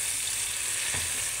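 Chopped tomatoes sautéing in a hot pan for ginisang ampalaya with egg and alamang, giving a dense, continuous sizzle that stays loud and even throughout with a brief stir.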